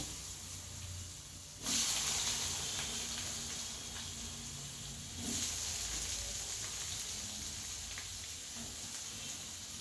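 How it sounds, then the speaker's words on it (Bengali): Potatoes fry in hot oil for a masoor dal fry, giving a steady hiss and sizzle, with two brief louder flare-ups early on. The sound is fairly quiet and close, with no talking. "দেখো আলুগুলো ভালো করে ভেজে নেব"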